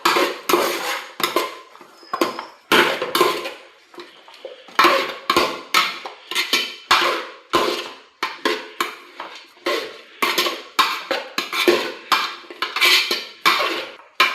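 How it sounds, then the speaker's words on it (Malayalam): Chicken curry being stirred in a pot: a spoon scrapes and clanks against the metal in repeated bursts, close and clear, with brief pauses between strokes and no talk. "നല്ലോണം കൂട്ടി അങ്ങ് ഇളക്കി കൊടുക്കാം."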